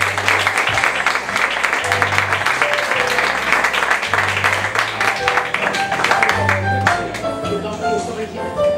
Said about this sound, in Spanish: Un fuerte aplauso para Andrés Aranda.